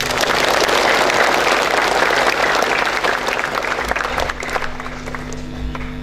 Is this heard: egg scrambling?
no